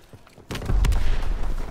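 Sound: grenade explosion in Call of Duty WW2 video game

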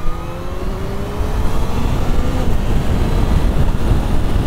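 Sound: Kawasaki Z H2 motorcycle accelerating to overtake a car

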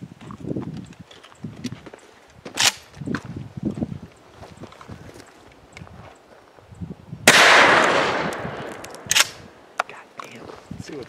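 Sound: gunshots fired at a 3A bulletproof vest

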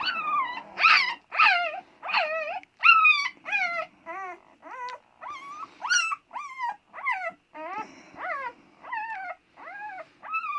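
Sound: wolf-hunting dog puppies growling

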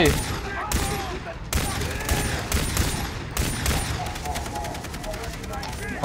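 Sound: gunfire in video game Far Cry 3

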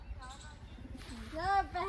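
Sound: pigeons

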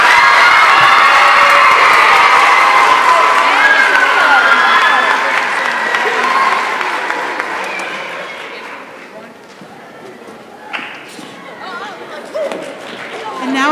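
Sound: audience applause and cheering for the chorus

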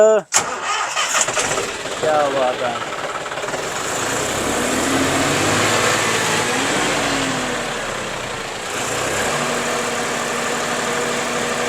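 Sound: tractor engine starting and idling

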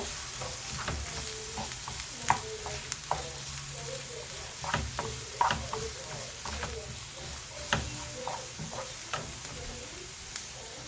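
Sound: onions frying in pan for egg kothu parotta

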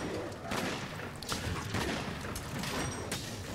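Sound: gunlance full burst shelling in Monster Hunter World video game

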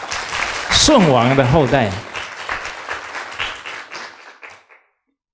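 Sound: audience applause

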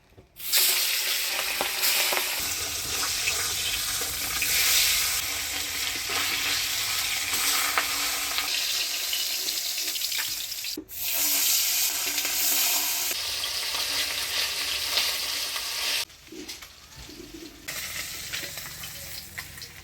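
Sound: fish frying in a pan

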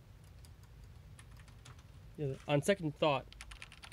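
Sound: typing on an Esprit 125C serial terminal keyboard

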